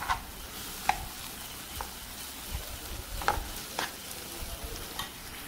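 Egg bhurjee with tomato and coriander leaf being stirred in a pan, a spatula scraping and tapping in irregular strokes over a soft sizzle, fairly quiet and close.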